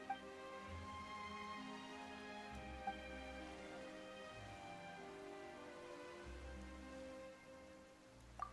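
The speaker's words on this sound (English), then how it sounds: "Why is it raining all of a sudden?" Soft, steady in-game rain falls in the video game Genshin Impact, a faint continuous patter beneath a quiet musical score, with a few light tones.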